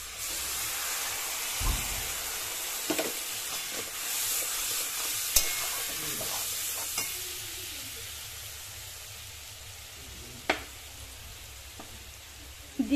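Spice paste for Bengali prawn malai curry frying in oil in a pan: a steady, close sizzling hiss with a few scattered spatula knocks and scrapes, no voices.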